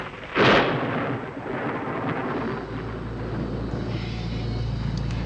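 Thunder from a storm: a sharp, loud crack near the start gives way to a long, deep rolling rumble that swells and persists to the end, with no voices.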